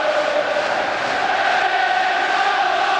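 Roar of a football crowd of around 50,000 at Celtic Park after a Celtic goal in a 1997/98 league match against Dundee United, a steady, dense wall of cheering sustained throughout without pause.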